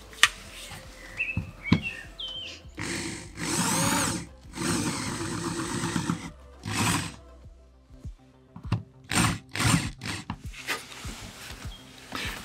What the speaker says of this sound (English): we are unscrewing the beams that we did to, you know, hide all the screws inside the ceiling. And we're using this handy tool